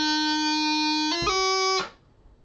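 Brief phrase from The Golden Wedding in Madeira: a long held D, then a quick cut grace note leading to an E that opens the second part. The notes are bright, buzzy and sustained, played alone before stopping abruptly.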